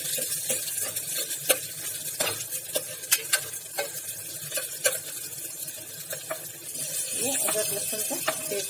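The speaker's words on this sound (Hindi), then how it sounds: "और उसको अच्छी तरह से मिक्स कर देंगे।" A spoon clinks and scrapes against a pan while jackfruit tomato curry sizzles and fries underneath, with irregular stirring knocks close by and a steadier sizzle toward the end, no talk.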